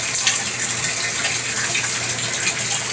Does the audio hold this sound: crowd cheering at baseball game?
no